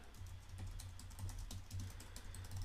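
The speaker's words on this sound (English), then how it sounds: "you probably won't be typing as fast as I am" Rapid keystrokes on a computer keyboard while code is typed into an app project, a steady run of close, crisp clicks with no talk.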